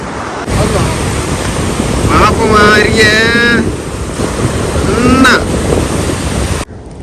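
Sea waves at Arugam Bay, a loud continuous roar of surf and blustery wind buffeting the microphone, with brief rising whistle-like tones in the middle.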